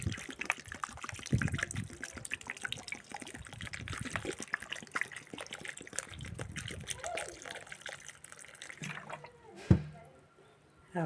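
Water drains off soaked bananas and persimmons in a steady trickling, splashing pour with faint voices underneath, ending with a sharp knock and then quiet.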